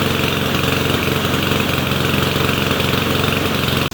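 A push lawn mower engine runs rough with a loud, continuous, uneven chugging drone at close range, heard alone until it abruptly cuts near the end.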